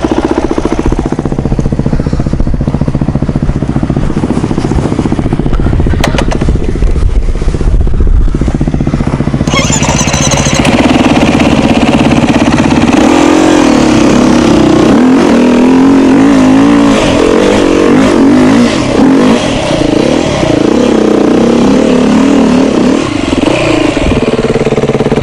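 A Suzuki DRZ 400 motorcycle revs in a large gravel pit, a steady engine drone that climbs after about ten seconds into rising, wavering throttle surges, loud and close throughout with no talk.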